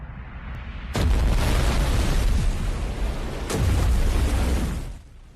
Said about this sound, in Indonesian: kini Gautam harus berpacu dengan waktu sebelum reaktor ini meledak di Kalpatam